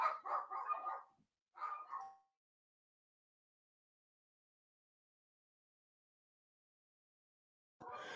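Several dogs bark in two bursts near the start, loud and close, then fall silent before another short round of barking at the very end.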